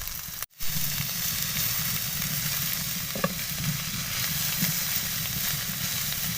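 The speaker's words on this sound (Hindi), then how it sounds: "अब इन दोनों को हमने इसी ऑयल के अंदर फ्राई करना है।" Ingredients fry in hot oil with a loud, steady sizzle that continues unbroken for several seconds, with a faint stir or two and no voices.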